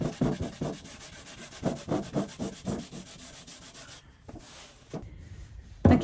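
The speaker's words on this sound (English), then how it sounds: "then you have to wipe it off, because if you let it dry on there, the shellac will just dry" A cloth rubs repeatedly across oak furniture, wiping methylated spirits and softened old shellac off the surface in rhythmic, close, scrubbing strokes, with a pause near the end before one more sharp rub.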